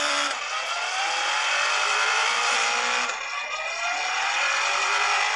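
A motorbike is pushed to full throttle, its high, strained engine whine rising steadily in pitch with a brief dip partway through. It is loud and continuous, with no talk.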